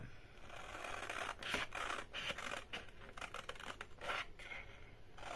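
Scissors snip through paper in a craft making session, a run of quick, crisp cutting strokes with light rustling, close and fairly faint with no talking.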